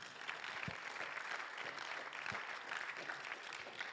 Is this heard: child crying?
no